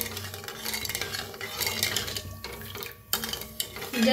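A spoon scrapes and swirls around a pot of sugar syrup being cooked for gulab jamun, with soft clinks and liquid sloshing in a steady stirring rhythm, close by and fairly quiet.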